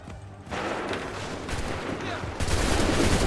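Musket gunfire volley in the video game Assassin's Creed 3, a sudden dense crackle of many shots that rolls on as a noisy battlefield roar, with a second surge near the end.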